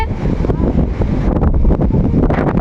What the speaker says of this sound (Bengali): এখানে অনেক বাতাস হচ্ছে